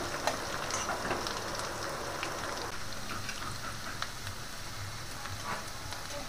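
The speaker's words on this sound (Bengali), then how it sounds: "রসুন আদা লঙ্কা আমার ভাজা হয়ে গেছে" Chopped garlic, ginger and chilli fry in oil for chilli chicken, giving a soft, steady sizzle with scattered pops, fairly quiet throughout.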